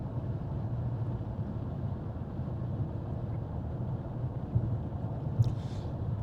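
Steady low road and engine hum inside a Mercedes-Benz S63 AMG coupe (C217) cruising at 120 km/h, a quiet, even rumble with faint brief knocks and no talking.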